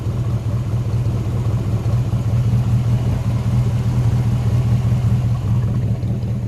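A homemade racecar's V8 idles with a steady, loud, low rumble that holds even throughout, close by with no voices.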